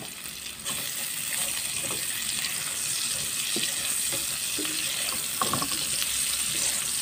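Onions hiss and crackle as they fry in leftover pork fat, a continuous dense sizzle with occasional pops and faint utensil clinks, steady and close throughout.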